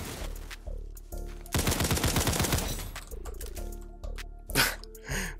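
A no-recoil gun fires in the video game Criminality: sharp shots crack out in short bursts and rapid strings, loud and close, with brief gaps between volleys.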